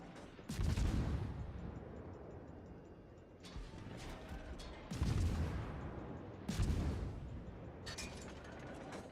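Heavy naval gunfire from the Khabarovsk, a Tier 10 Russian gunboat destroyer in World of Warships: four deep booming salvos a few seconds apart, each followed by a rumbling decay, with faint ongoing battle noise between.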